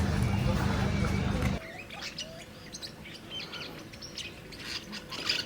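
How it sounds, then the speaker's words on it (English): Parrots chirp and tweet in short bright calls around an outdoor tap at a pool, the birds audible after a burst of louder noise at the start, scattered calls continuing with faint background activity. "So these parrots are just drinking from our tap."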